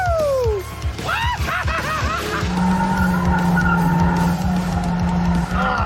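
A car doing burnouts screeches with loud sustained tire skidding and engine roar, rising whines and squeals throughout, with some laughter and voices in the mix.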